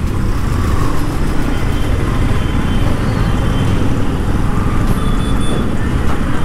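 A Yamaha MT15 motorcycle rides through city traffic, with a loud, steady roar of engine and road noise mixed with surrounding vehicles and continuous wind rush.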